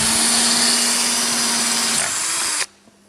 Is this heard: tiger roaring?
no